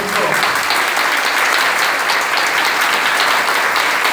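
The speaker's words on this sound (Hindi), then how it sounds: "अच्छा लगा तो जोर जोर से तालियां बजाएंगे" An audience claps loudly and continuously after a hypnosis session at a corporate event in India, a dense, even wash of applause with no pauses.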